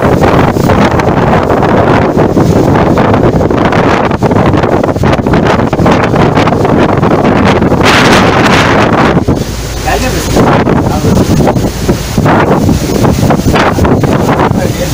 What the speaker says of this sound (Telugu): ఈదురుగాలితో ఎగసిపడుతున్న సముద్రపు అలలు